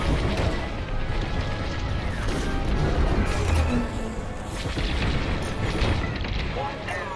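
Explosions boom through a space battle in the Star Wars Squadrons video game, heavy rumbling blasts layered over constant engine and weapon noise, with voices talking over the action.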